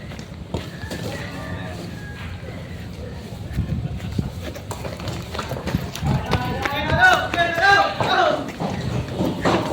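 Quick, irregular horse hoofbeats patter over loud voices at a livestock auction market in Lucena, Quezon, growing busier and louder toward the end.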